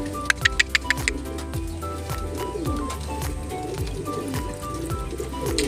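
Pigeons caught in flooding from a typhoon coo and call in a steady, close stream of soft rhythmic calls, with a few sharp clicks near the start and continuous background noise throughout.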